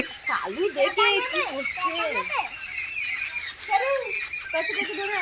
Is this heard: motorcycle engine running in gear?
no